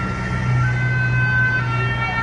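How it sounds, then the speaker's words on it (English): Ambulance siren wailing steadily in a busy street after a truck attack on a crowd in Nice, France, sustained tones over traffic rumble with no talk. "There's another ambulance coming now"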